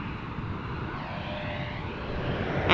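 A twin-engine airliner approaching Amsterdam Schiphol, a steady broadband engine roar at moderate distance that slowly builds louder toward the end.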